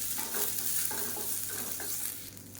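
Onions frying in a pan, a steady close sizzle with soft stirring scrapes repeating throughout, no voices.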